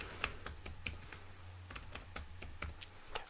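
Typing on a computer keyboard while entering a password, a quick run of sharp, close key clicks in uneven bursts over a low steady hum.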